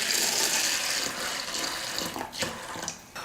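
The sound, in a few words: water poured onto masoor dal in a vessel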